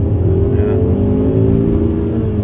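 A 1939 Alfa Romeo with a 2-liter engine revs steadily nearby, its deep, beefy exhaust note rising and falling under a continuous sustained tone, with voices partly audible alongside.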